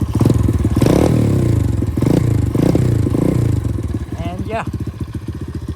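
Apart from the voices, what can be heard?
blue motorbike exhaust while revving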